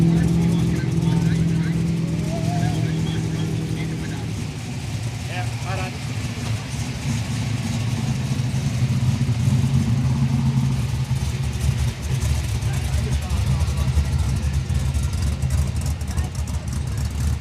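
Drag-racing cars, a one-tonner and an orange HQ, rumble and rev on a no-prep airstrip at the Kooralbyn aerodrome. A steady engine drone runs throughout, with a louder pass near the start, while a commentator talks over the noise.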